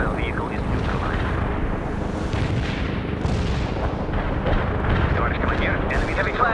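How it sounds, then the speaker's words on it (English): Artillery barrage in a Soviet-side World in Conflict battle, a dense continuous rumble of explosions and firing, loud and sustained, with radio voices talking over it. "Commencing the barrage. Our barrage hit the target."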